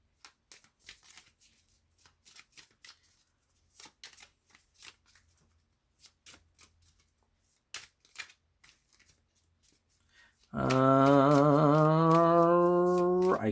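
A deck of Hermitcraft trading cards being shuffled in short, crisp riffles and flicks, followed near the end by a loud, sustained tonal burst that masks the cards.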